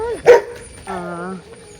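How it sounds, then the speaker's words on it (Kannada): Dogs bark close by: one sharp bark, then a drawn-out whining yelp, both brief and loud against a quiet background. "ಅವರ ನಾಯಿಗಳ ಕೊಬ್ಬೆ ನೋಡಿ ಕೇಳುದು ಗೈಸ್"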